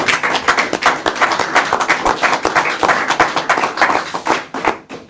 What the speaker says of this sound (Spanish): el primer aplauso de la tarde-noche vamos a darlo a la librería Tercios Viejos